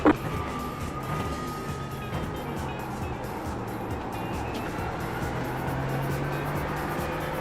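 A faster prototype race car closes in and passes during the Roar Before the 24 endurance event, a steady loud engine drone with shifting harmonic tones that holds for several seconds after a sharp opening burst.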